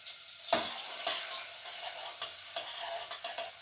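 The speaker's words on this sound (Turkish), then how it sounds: "Biberlerimizi de böyle bir karıştıralım." Peppers sizzle in hot oil as a utensil stirs them, with a sharp clack at the start and a few more scrapes and knocks over a steady, close frying hiss.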